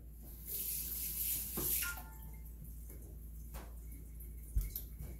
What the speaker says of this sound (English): I'm gonna rinse my hand off quick.